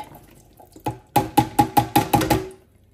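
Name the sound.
draining water from canned sweet corn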